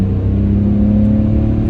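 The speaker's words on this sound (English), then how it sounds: "There's a lot more engine noise, which is absolutely great." BMW E46 engine fitted with a cold air intake, giving a loud, steady, deep rumbling drone with an even whirring tone, close and sustained with no talk.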